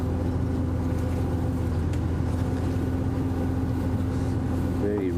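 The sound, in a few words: safari vehicle engine running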